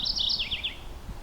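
A mourning warbler sings one quick, bright, rolling phrase from woodland beside a cleared dirt field, fairly near and clear over a low background rumble.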